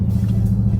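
2020 Dodge Charger Hellcat Widebody V8 rumbling in a steady, deep, loud idle, close by and alone for under a second.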